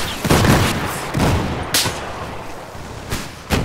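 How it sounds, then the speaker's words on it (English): Missile explosions in the video game Battlefield 4: several loud, booming blasts burst in irregular succession, each a sharp broadband impact with a rumbling tail, against a steady background of battle noise. "You see all these missiles?"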